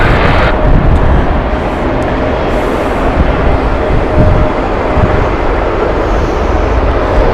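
A United jet engine spools up at Heathrow with a loud, broad, steady roar close by, a thin whine running through it and no talk over it.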